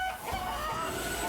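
Chickens clucking in the video game Limbus Company, a steady low murmur of fowl sounds blended into a dense, continuous ambient bed with no speech.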